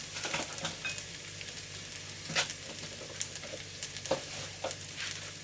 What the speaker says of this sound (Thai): นี้เราผัดไปนะครับ